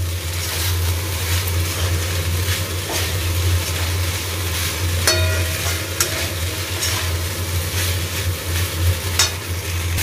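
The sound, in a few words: stirring fried chicken and egg into pasta in a pan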